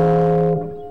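One ringing electric guitar chord, E seventh sharp five with a lowered ninth and F on top, sustains close and clear for about half a second and then decays quickly.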